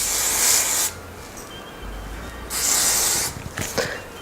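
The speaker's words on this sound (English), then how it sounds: "And then we are just taking some hairspray." Hairspray mists onto hair in two hissing aerosol bursts, each about a second long and close by, separated by a quiet pause and followed by soft rubbing and handling sounds.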